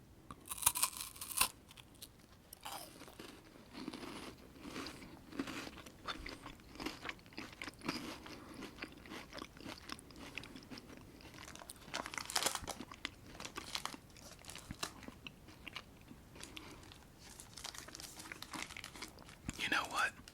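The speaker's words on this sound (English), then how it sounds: "Let's take a bite." Someone bites and chews a thick Nestle chocolate log packed with rice crisps, coffee-flavoured and tough: close, crisp crunches and crackles come in irregular bursts with faint wrapper crinkles.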